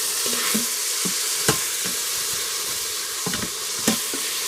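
Bolognese sizzling steadily in a covered pan, a continuous hiss with occasional sharper crackles and utensil clinks; no talking.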